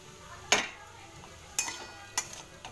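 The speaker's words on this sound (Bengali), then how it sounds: "তো এবার আমি সুজিটা এর মধ্যে দিয়ে দেবো," A metal spoon clinks and scrapes a few times in a pan of fried potatoes as semolina is stirred in, each quiet tap sharp and well spaced against a soft kitchen background.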